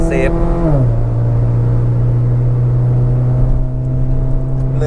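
A 2010 Toyota Vios 1.5E sedan accelerates with a loud engine hum inside the cabin. The pitch drops at a gear change early on, then settles into a steady drone while someone talks over it.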